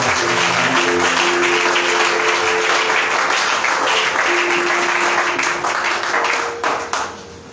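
A church congregation applauds Jesus during a 2024 retreat, with loud, dense clapping from many hands that continues steadily before tapering off, and sustained vocal tones sound underneath.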